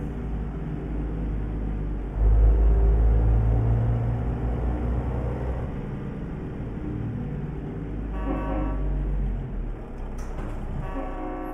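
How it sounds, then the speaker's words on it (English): Train horn in American Truck Simulator, a Kenworth W900 hauling 29,000 pounds, with loud low horn blasts over steady engine drone and road rumble, fading toward a lighter tone near the end. "Got that train horn going on."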